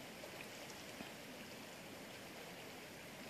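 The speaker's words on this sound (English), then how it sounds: "The river has risen since I've been here." A risen river flows in a steady, unbroken rush of water that fills the whole scene at moderate loudness, with no voices over it.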